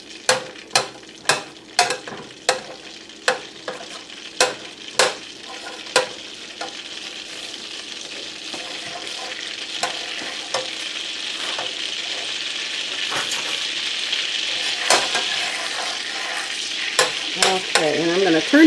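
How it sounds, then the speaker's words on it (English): Butter melting in a pan for shrimp étouffée: a run of sharp stirring or scraping knocks at first, then a steady, building sizzle that fills the rest with occasional clicks, no talk. "Okay, my butter is almost melted."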